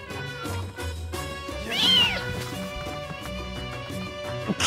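A cartoon samurai cat gives one clear, drawn-out meow midway, over light background music, with no speech.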